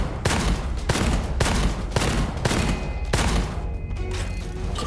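A basic pistol in the shooter game Gunfire Reborn fires six sharp, punchy shots at a steady rhythm about half a second apart, loud and close, over a constant background bed of game sound.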